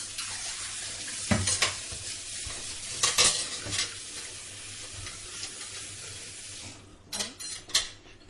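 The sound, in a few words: stirring masala in frying chicken curry pan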